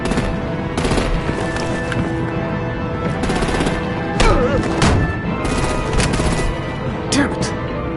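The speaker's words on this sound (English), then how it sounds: "Break out the artillery and disable their vehicles!" Gunfire in the video game Batman: The Enemy Within, loud bursts of rapid shots arriving in several separate volleys over a constant rumbling background, with a brief voice heard partway through.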